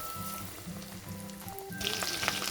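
Potato egg nuggets coated in batter frying in hot oil make a soft, continuous bubbling sizzle that grows brighter and louder toward the end, with no one speaking.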